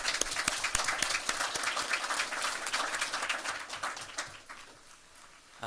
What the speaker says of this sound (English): We can give him a nice round of applause.